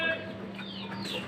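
Hens cluck in a short burst nearby, with a few soft, clipped calls lasting just over a second.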